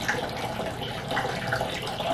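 Tap water runs steadily, filling a container for washing developed film, a soft continuous splashing flow heard close by with no talking.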